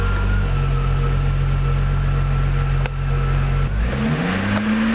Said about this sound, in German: Wir lassen den Motor jetzt laufen, bis die Öldrucklampe erlischt und dann drehen wir ihn kurz auf 2000 hoch.